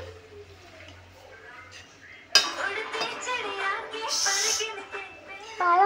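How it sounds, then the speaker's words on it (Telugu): Utensils mix pasta in a pan, with metallic scraping and clinking that grows busier partway through, set against a faint background. "ఇప్పుడు మా మమ్మీ మిక్సింగ్ చేస్తుంది."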